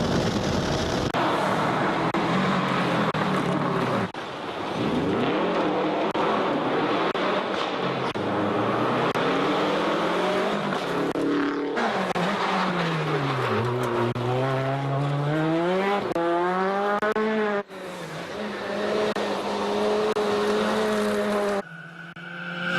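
A rally car races along a forest stage of the Susquehannock Trail Performance Rally, its engine roaring loudly and rising and falling through gear changes, passing close with sweeping revs and brief cuts.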